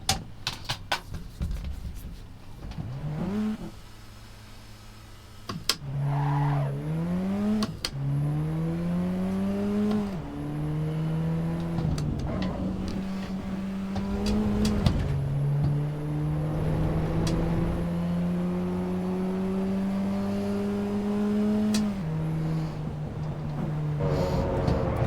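A race car's engine revs through the gears in the Assetto Corsa Evo racing game at Imola, rising in pitch again and again under steady loud road and tire noise, no talk.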